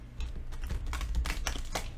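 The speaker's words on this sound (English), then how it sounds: "So let's shuffle this deck" A deck of tarot cards is shuffled by hand, producing quick, close, rapid riffling and tapping bursts with no voice.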